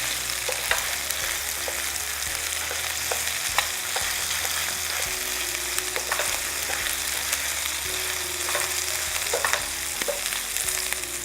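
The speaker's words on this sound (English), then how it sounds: "That garlic is burning on there a little bit, and everything's starting to cook in there quite nice." Redclaw crayfish fry with garlic in a hot pan, a loud steady sizzle and crackle running throughout with occasional stirring scrapes, no talking.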